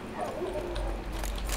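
A dog in the video game The Witcher 3 gives short whines and yips over quiet in-game ambience, brief and fairly faint.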